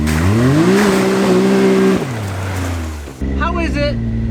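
A Can-Am Maverick X3 Turbo side-by-side roars along a trail, its engine rising and then dropping in pitch as it revs. Someone talks over the loud engine noise.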